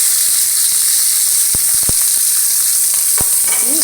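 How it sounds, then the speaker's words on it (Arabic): Squid and green onions sizzle in hot oil in a pan, a loud continuous frying hiss with a few sharp clacks of a utensil stirring and scraping the metal. "نحط البصل الاخضر تقليبه بس خفيفه كده، ونروح نازلين عليها بالاخطبوط اللي عملناه"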